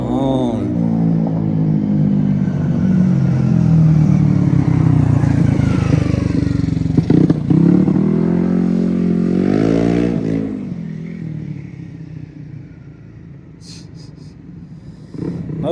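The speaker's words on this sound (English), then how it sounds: "Moped doing a wheelie, showing off." A moped ridden around town at night, revving hard while pulling a wheelie. The engine drones loud and close, pitch climbing and falling with the throttle, then drops off and fades into the distance.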